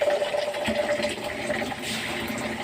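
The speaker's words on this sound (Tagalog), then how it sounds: "Punuin mo ng tubig." Water runs into a container with a steady gushing and trickling that rises slightly in pitch as it fills, heard close and moderately loud.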